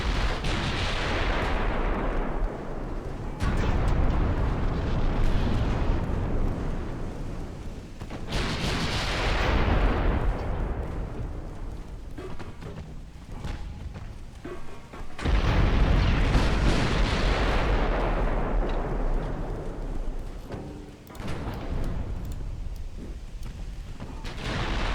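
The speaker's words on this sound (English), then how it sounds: "Almost out of shells. A few salvos left from her." Heavy battleship artillery salvos thunder in the naval game Ultimate Admiral: Dreadnoughts, in a WW2 battleship match with the Kongo. Loud, repeated booming volleys roll out every few seconds, with no talk over them.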